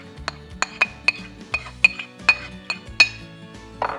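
A utensil clinks sharply against a bowl about a dozen times in an irregular rhythm while tabbouleh greens and ingredients are mixed. The strikes ring briefly over a soft, muffled tossing sound, close up and without talk.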